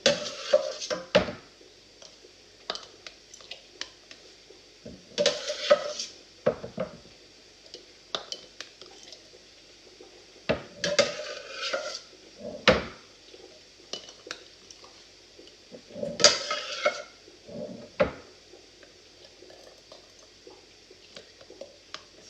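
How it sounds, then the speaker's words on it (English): Hot glass jars of hot sauce are set into a hot pressure canner, making a series of scattered, sharp clinks and knocks of glass against metal, close by and fairly quiet, with pauses between them. "this is hot sauce in hot jars, and we're going to put them in a hot pressure canner"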